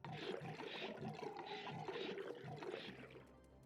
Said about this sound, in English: Water's pumping out.